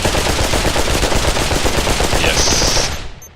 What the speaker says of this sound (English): Don't mind the AK firing.